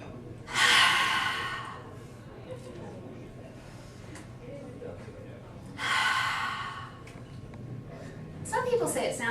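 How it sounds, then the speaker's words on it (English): A person demonstrates yoga breathing, with two loud, rasping, ocean-like breaths roughly five seconds apart, close to the listener, followed by a third breath starting at the very end. "this is what yoga breathing sounds like"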